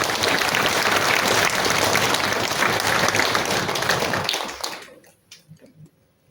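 Audience applause at a symphony orchestra concert, a dense, loud sustained clapping from a large hall crowd that fades out after about four seconds, leaving a few scattered faint sounds.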